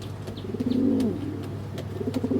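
A racing pigeon in a loft gives a close, clear coo: a rolling low call, then shorter repeated coos, over a faint steady hum.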